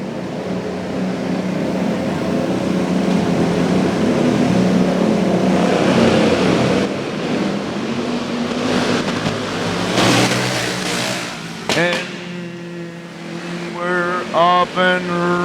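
Race cars at an indoor raceway roar off under green together, a loud, dense engine wash that swells and thins as they pass, then individual engines rev and whine up near the end.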